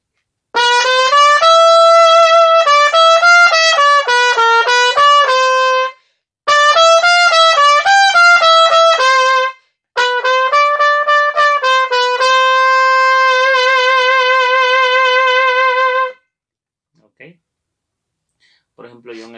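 A solo trumpet plays the loud section of a song, bright sustained notes in three long phrases with short breaks, then a couple of faint clicks at the end.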